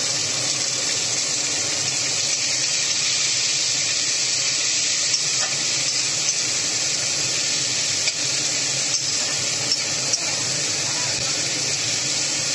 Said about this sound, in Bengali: এবারে পেঁয়াজ কোচানোটা তেলের মধ্যে দিয়ে দিলাম।